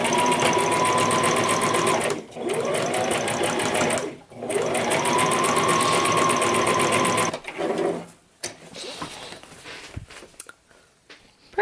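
A sewing machine zigzag stitching over frilly trim on a large fabric heart-shaped box, loud and close, running in long steady bursts with brief stops, then slowing into scattered handling clicks and rustles.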